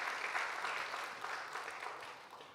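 Steady applause from a church congregation during a Sunday worship service, a broad wash of many hands clapping at moderate volume that tapers slightly toward the end, with no voices over it.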